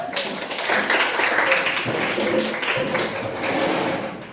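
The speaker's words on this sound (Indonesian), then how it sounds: "Coba kamu tepuk tangan." Hands clapping in a high school classroom game, a dense, sustained patter of many claps from a group filling the room at steady loudness throughout, with no talking.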